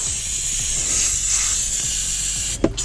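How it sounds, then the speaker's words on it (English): Cleaner sprayed onto HVAC coils in a crawl space, a steady broad hiss continuing throughout with a low rhythmic pulsing beneath, ending in a brief sharp knock. "Just spraying the coils."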